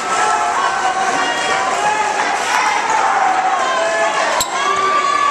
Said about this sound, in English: And now the crowd will cheer Sean O'Neal as he goes out.